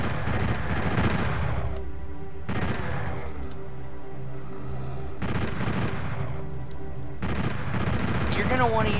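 Rapid bursts of chain gun fire in the PSX Doom video game, loud sustained volleys of about two seconds each, broken by short pauses, three bursts in all.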